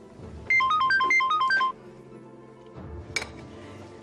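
A phone chimes a short melodic SMS notification tone, a quick run of bright clear notes for about a second, followed by quieter room noise and a faint tap.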